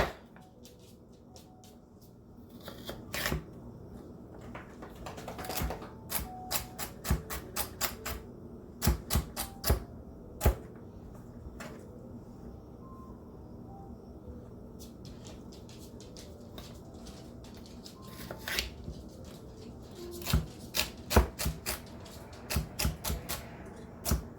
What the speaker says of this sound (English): I am cutting my celery up a little bit smaller than the rest of the stuff.